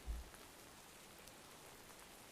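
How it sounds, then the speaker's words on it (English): Steady, soft rainfall patters in the video game Minecraft (Astral Sorcery mod), a faint even wash of drops with a brief low thump at the start; no voices. "we can't do anything right now because it's raining"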